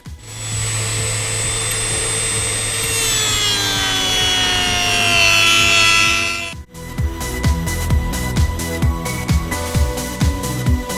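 Power tool whining steadily as it cuts a Pink Power Ranger helmet kit in half, the pitch sliding downward, then sharp rhythmic knocking and tapping as the cut finishes.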